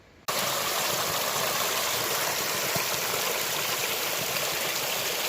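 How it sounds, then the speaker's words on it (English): Water flowing in a small side creek, a steady broadband rushing and babbling that starts abruptly after a brief moment and stays loud and constant with no voices. "Small side creek."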